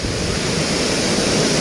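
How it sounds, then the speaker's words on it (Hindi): Water at a Cherrapunji waterfall pours from high above onto rocks below, making a constant, loud, close rushing roar with no pauses and no talking. "ये है पानी और ये देखिए दोस्तों, सो नाइस, सो ब्यूटीफुल, पूरा ऊपर से पानी गिरता हुआ।"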